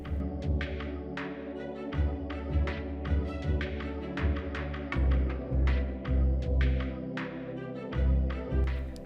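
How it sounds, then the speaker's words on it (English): A sewing machine runs a zigzag stitch along the seam edges of fabric for a small doll's fantasy dress, its motor throbbing in steady bursts with quick tapping needle strokes, close and fairly quiet. "I finish the edges with a zigzag stitch"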